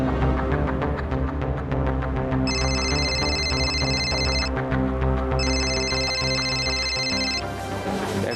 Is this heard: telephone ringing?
yes